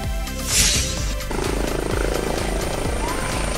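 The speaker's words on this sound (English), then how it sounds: "Police helicopter." A police helicopter with a steady, loud rotor and engine drone that holds throughout, with a brief hiss rising near the start.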